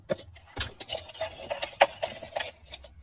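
Numbered paper slips shuffled and stirred together by hand before a draw, giving a quiet, irregular run of soft rustles and light clicks, close up with no talking.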